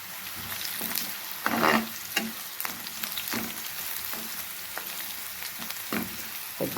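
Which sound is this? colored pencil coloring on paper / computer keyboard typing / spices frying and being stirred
spices frying and being stirred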